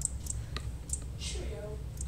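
Several sharp, quick mouse clicks during a Hunger Games computer game session, scattered over a low background hum, with brief faint voice sounds in the mix.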